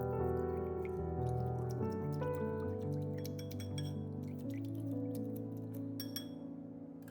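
Water trickling and dripping as fresh chili pepper seeds are rinsed, with faint splashes and small clinks over a steady running flow, close and soft, no voices.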